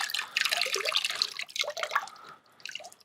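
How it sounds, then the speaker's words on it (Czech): Water draining and dripping out of a JBL Charge 3 portable speaker, a close run of irregular splashy trickles and drips that thin out toward the end. "Vylejeme z něj vodu."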